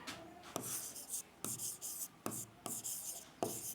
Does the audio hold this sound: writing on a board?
yes